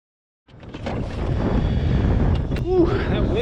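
Wind gusting across open water on the California Delta during a kayak fishing tournament, a loud rushing buffet against the microphone that begins abruptly and holds steady, with a voice briefly heard over it.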